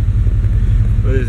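A 1988–95 Chevy Silverado/GMC Sierra truck engine idling close by, a loud steady low rumble for a moment with no speech over it.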